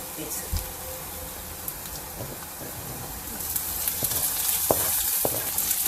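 Onions with green chillies, curry leaves and ginger frying in a pan, a steady close crackling sizzle with occasional stirring clinks and faint talk.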